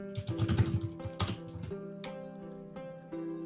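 Computer keyboard typing picked up by a new microphone: quick, light clicks and key taps in short bursts, fairly close, with sustained background music underneath and no talking.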